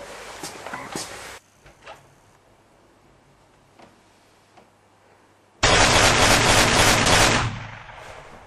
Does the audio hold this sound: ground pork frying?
no